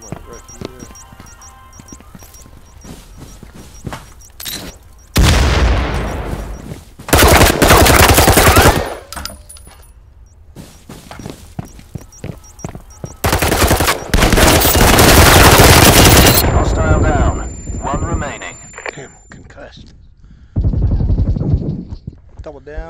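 Gunfire in the video game Firewall Zero Hour: loud bursts of automatic fire and sharp single shots come in dense clusters, with quieter gaps holding faint footsteps and clicks.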